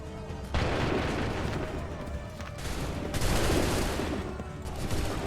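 Musket volley fire in Assassin's Creed 3, a dense, sustained crackle of many guns going off together in loud overlapping bursts across the whole stretch, with a fresh swell of shots near the middle.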